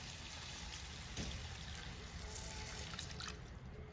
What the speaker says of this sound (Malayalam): ഈ സമയം ഇതിലേക്ക് അല്പം ചൂടുവെള്ളം ചേർത്ത് കൊടുക്കാം